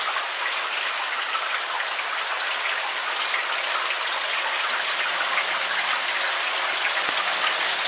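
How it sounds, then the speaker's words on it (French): Steady rain falls in a dense, even hiss of drops on surfaces, continuous and fairly close, with no talking. "Je sais pas si on voit la pluie tomber là dans les caméras."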